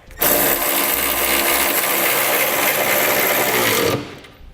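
A power tool with a 19mm socket runs down trailer hitch bolts on a 2017 Chevrolet Equinox, giving a loud, close, continuous whirring burst lasting about four seconds before stopping abruptly.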